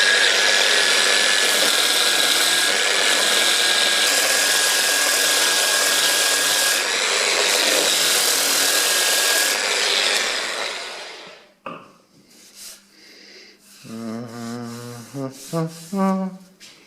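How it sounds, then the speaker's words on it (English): Oak shelf surface being sanded, a loud, dense, continuous grinding hiss that holds for about eleven seconds, then cuts off into quieter scraping and short tonal squeaks. "So now I will sand it here."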